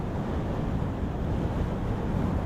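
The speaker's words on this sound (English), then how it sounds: "You can hear the waves picking up." Ocean waves surge and wash against a pier on a windy night, a steady broad roar of surf with wind buffeting the microphone throughout, no voices.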